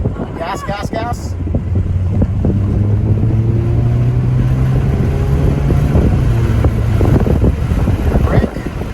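A car accelerates during a driving lesson, its engine droning steadily under rushing wind noise, with the hum rising and shifting in pitch as it speeds up and a voice speaking briefly at the start.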